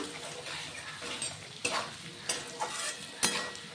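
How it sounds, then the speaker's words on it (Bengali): Potatoes frying with turmeric and chili powder, stirred in a pan: a continuous sizzle broken by several sharp scraping strokes of a spoon against the metal, fairly quiet and close. "মশলাটা আলুর সঙ্গে ভালো করে মিশিয়ে কষিয়ে নিচ্ছি"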